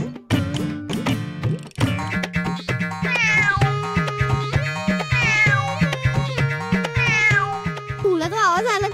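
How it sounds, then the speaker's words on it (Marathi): Several cats meow repeatedly near a house where milk is kept, their loud, close, wavering calls overlapping almost without pause. "तुला तो आवाज आला का? हो, मांजरी आल्या वाटतं."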